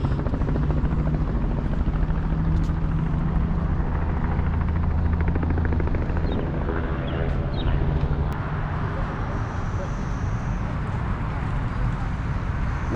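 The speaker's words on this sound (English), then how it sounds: "Helicopter you hear in the background is helicopter tours that they do for the arch itself." A tour helicopter flies near the Gateway Arch, its steady rotor drone and engine rumble continuous and moderately distant throughout, with no talking over it.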